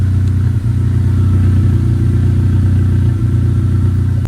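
A VW Mk8 GTI with an XForce valved catback exhaust, valve open, holds a steady, loud, deep low-pitched drone close by, with slight dips in level and no talk.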